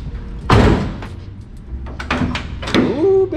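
A 1970 twin-turbo LSX Chevelle's door opened with a fitted GTR-style door handle: a loud close clunk of the latch releasing, followed by softer handling knocks and a second thump, with no talk.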